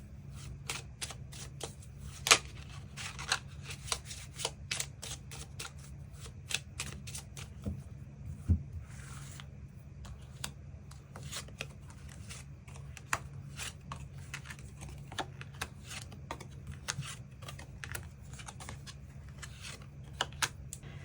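Tarot cards being shuffled and extra cards drawn, a long run of crisp, close snaps and flicks at an irregular pace, occasionally louder, with no talking.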